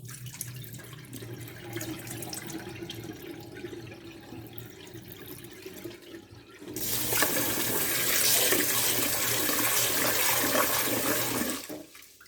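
Rice being swished in water and the rinse water tipped away while cooking savoury rice, a soft sloshing at first, then a steady louder rush of pouring water for several seconds before it stops.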